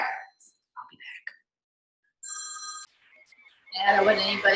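A telephone rings once in a kitchen while a peanut butter pie is being made, a steady electronic bell tone lasting under a second, followed by a burst of broadband noise, with faint whispery sounds before it.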